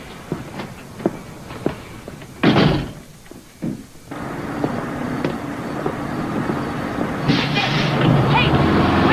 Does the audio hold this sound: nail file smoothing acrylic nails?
no